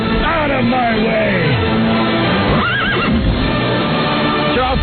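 A horse sound effect on a radio broadcast: loud whinnying neighs over clip-clopping hooves, close and continuous, with voices and crowd noise mixed in.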